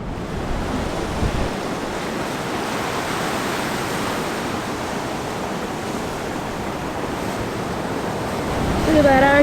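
Ocean surf breaks at the end of a pier at Urunga, New South Wales, a steady broadband wash of waves and wind rising slightly toward the end, with no speech.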